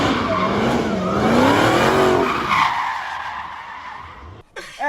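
A Dodge Challenger Hellcat drifts with loud sustained tire squeal, its screeching pitch wavering up and down over a roaring engine, then fading before a brief burst of squeal at the end.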